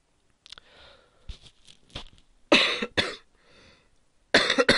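A person coughs several times up close, sharp bursts at first soft and scattered, then two loud coughs in the middle and another strong cough at the end, with quiet gaps between.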